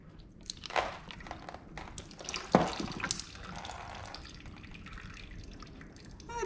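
Fluid drains from a Farmall H tractor into a pan, with splashing, dripping and trickling, a sharp splat near the middle followed by a steady faint pour.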